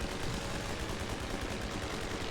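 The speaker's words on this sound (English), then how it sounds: "They fly in and just strafe the men with their machine guns." Rapid machine-gun fire from strafing aircraft in the WWI video game The Great War Western Front, a dense, continuous crackling burst held at a steady level throughout.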